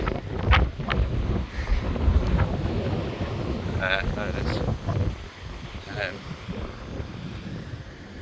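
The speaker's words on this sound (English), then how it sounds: "It is extremely windy." Strong wind with rain buffets the microphone in a constant roaring rumble while a person speaks briefly, with gusts rising and falling throughout, in Gibraltar.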